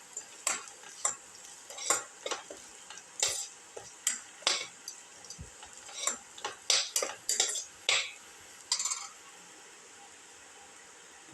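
A spatula scrapes and stirs cumin, egg and cucumber in a pan, giving a series of sharp, irregular clicks and scrapes over a faint sizzle, close and moderately quiet, ending in a soft steady hiss.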